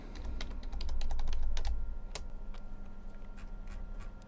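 A command tapped out on a computer keyboard: a quick, close run of crisp key clicks, uneven in rhythm, over a low background rumble that swells and fades early on.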